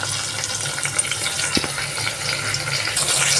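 Chopped tomatoes dropped into masala paste of sesame, cumin and garlic frying in oil in a pan, a steady loud sizzle and crackle with a brief thud as they land, rising slightly at the end.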